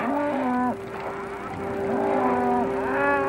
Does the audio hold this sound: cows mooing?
yes